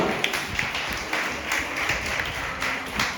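A church congregation applauds during a service, a dense wash of many hands clapping with scattered louder claps, steady and moderately close throughout.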